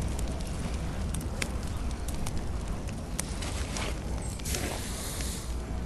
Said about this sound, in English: The cozy campfire is gonna run out before we can use it.